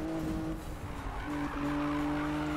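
A tuned Nissan Skyline GT-R R34 V-Spec drifts with a steady, high tire squeal over a droning engine, held for the whole stretch at a fairly close distance.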